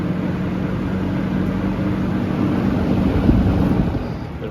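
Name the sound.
vintage box fan running on high and spinning down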